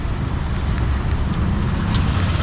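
Honda Click 125 scooter engine idling steadily after a remote start from a two-way alarm, close and continuous low rumble with no talk.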